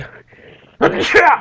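A loud, sudden sneeze bursts out right after a brief spoken word and some quieter murmuring, close to the listener.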